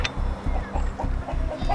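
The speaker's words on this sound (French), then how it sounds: "Voilà un petit poussin." A chick gives repeated soft clucking peeps in a quick, regular rhythm, close and clear, with no talking.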